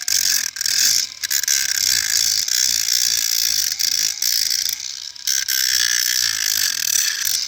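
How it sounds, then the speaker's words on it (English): An abrasive grinder works on a damaged wheel rim, giving a loud, continuous harsh whine and rasp with brief dips where the tool lifts off the metal. "Try to grind as much as you can."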